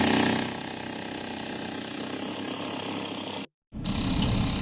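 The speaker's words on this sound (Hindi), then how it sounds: "अवैध मदरसे को हैमर हथौड़े से तोड़ा गया।" A hammer breaker pounds at an illegal madrasa building under demolition, producing a dense, continuous rattling clatter with heavy mechanical noise that cuts out briefly near the end and then resumes.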